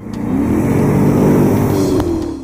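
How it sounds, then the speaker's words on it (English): A Maserati GT engine revs hard and loud through its exhaust, a sustained rising roar with a deep, throaty tone and no voices. "Those vocal pipes just punch out such a pleasurable tune as you roar up the revs."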